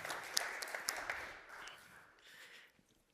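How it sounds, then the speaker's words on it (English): Faint audience applause at a conference presentation patters with a few sharper claps early on, then thins out and fades away in the distance. "I want from the audience to give a big applause to our team"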